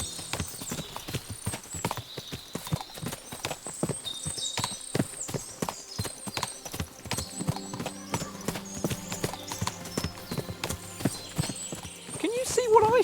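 Steady clip-clop of many horses' hooves in the video game Kingdom Come: Deliverance II, busy and continuous, with occasional whinnies and game music and talk layered over it.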